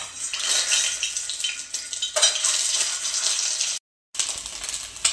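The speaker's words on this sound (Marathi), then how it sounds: "तर आपल्याला अंडे थोडे फ्राय करून घ्यायचे" Eggs frying in a hot kadhai on a gas stove, a dense continuous sizzle and crackle with a few metallic scrapes, loud and close, briefly cut to silence before the sizzling resumes.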